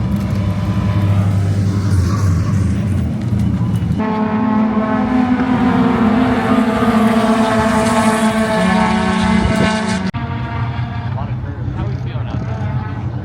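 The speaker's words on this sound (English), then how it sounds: "here's a look at some of the other cars that are racing this weekend" Race cars at an SCCA race weekend drive past on the track, their engines droning and revving loudly in sustained waves across several shifting sections, with voices talking over them.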